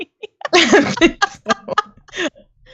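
A person sneezes amid a noisy evening gaming stream, a sharp burst followed by breathy, giggling vocal sounds at close range, with short bursts of other vocal noise around it.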